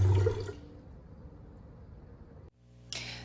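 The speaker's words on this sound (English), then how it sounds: "I am pouring this water with my thoughts on the people of California." Water poured out during a remembrance ceremony, a short splashing rush that starts loud, then thins to a trickle and cuts off, followed by a faint hiss.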